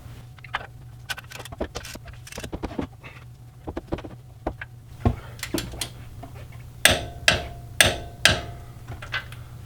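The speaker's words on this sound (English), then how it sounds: "Lastly, we can torque our brake caliper." A torque wrench tightening a front brake caliper on a Lexus LX470 to 90 foot-pounds, a run of sharp metallic clicks and ratchet ticks, sparse at first then louder, spaced clicks near the end, close by.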